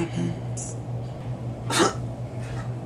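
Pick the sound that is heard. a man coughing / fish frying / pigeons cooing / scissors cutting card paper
a man coughing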